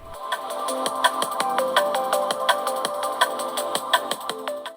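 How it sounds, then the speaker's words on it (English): A Redmi Note 10 Pro's dual speakers play a bright, ringtone-like melodic tune with steady plucked notes in a regular rhythm, clear and fairly loud with no talking. "It has a capable dual speaker setup, loud enough, produces a sound like this."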